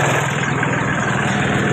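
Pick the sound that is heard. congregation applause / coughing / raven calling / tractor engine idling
tractor engine idling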